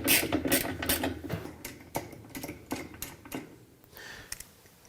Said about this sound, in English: we're just going to bring in our socket, an extension and ratchet wrench, and loosen that off